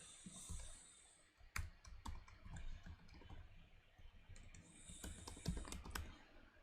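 Close-up keyboard typing while code is being written for a Vue and TypeScript web app, with bursts of quick key clicks and short pauses in between, fairly quiet with no talk.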